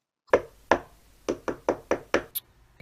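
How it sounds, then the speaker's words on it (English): Seven sharp knocks on a wooden door in a storybook scene: two slow, spaced raps, then five quicker ones in a steady run, close and clear with no voices. "He knocked at the door."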